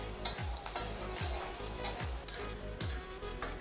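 Potatoes frying in a pan for a Bengali village-style patla jhol, a steady close sizzle broken by a regular rhythm of spatula stirring strokes and light scrapes about every half second.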